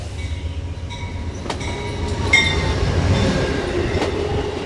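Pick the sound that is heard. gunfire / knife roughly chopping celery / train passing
train passing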